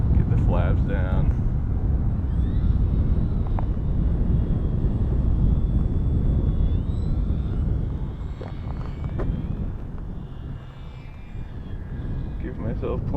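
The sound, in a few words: RC plane propeller motor during landing approach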